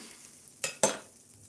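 Onions fry in a pan under a steady soft sizzle, broken by two sharp scraping clatters of a utensil stirring them, close up.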